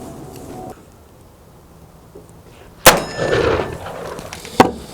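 An 1851 Navy Colt revolver fires two sharp, loud reports outdoors, the first ringing out with a lingering echo and the second following about two seconds later after a quiet lull.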